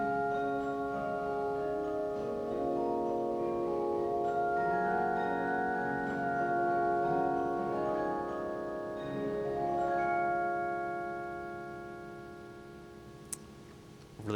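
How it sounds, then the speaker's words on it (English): Harp stop of a Skinner pipe organ in a 100-year-old church, striking metal tone bars for a bell-like celesta tone; overlapping notes ring and sustain in a smooth, unhurried melody with no voices. "This is a harp like, essentially it's a celesta."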